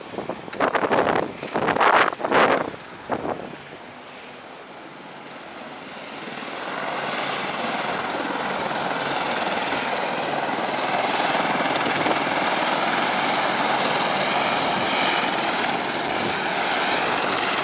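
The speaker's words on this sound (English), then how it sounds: "You see the Apache? I saw the Apache." Apache military helicopter passing overhead outdoors: a broad, rising rotor-and-engine roar with a faint pulsing texture that swells and holds loud, with wind buffeting and a few thumps at the start.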